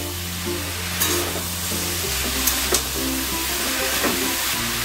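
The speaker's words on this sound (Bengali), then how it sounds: "আবারও সব মিশিয়ে নেব।" Pumpkin greens, with a pinch of sugar added, are stirred and mixed in a pan over soft continuous sizzling, with a few scraping knocks and a low steady tonal drone running underneath.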